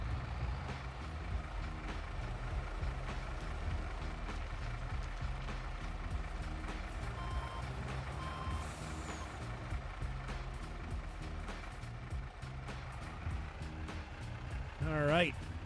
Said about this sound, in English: I'm gonna move the dump truck.